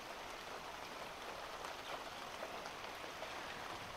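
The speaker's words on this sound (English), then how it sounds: "Not sure if you can appreciate the rain." Steady rain falling on a gray day, a soft continuous hiss of drops with faint scattered patters, fairly quiet and even, no voices.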